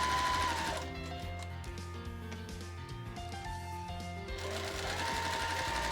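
A domestic sewing machine stitches fabric selvage strips for patchwork, its motor whirring continuously and close, dipping briefly in speed before ramping back up.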